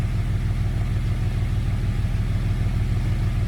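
A Jeep engine runs steadily after repairs, a close, even low rumble with a fast pulsing idle throbbing continuously and no voices over it.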